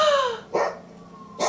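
A dog in a scene from The Last of Us TV series barks twice, loud and close, with a pause between the barks and a falling tonal sound before the first.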